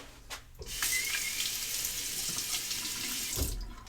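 A tap runs steadily close by, rinsing a razor between passes during a wet shave: a sudden onset of gushing water that flows evenly for about three seconds, then cuts off.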